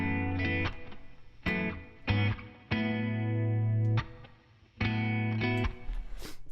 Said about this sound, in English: So this is the rhythm guitar.